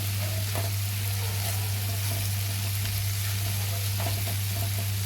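Masala frying in oil for urad dal varan, a dense continuous sizzle with a low steady hum beneath and occasional faint stirring, close and constant throughout.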